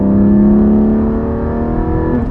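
A 2020 Porsche Cayman GT4's 4-liter flat-six, 414 horsepower engine drones loudly at sustained revs from close by, its pitch easing slightly then steadying.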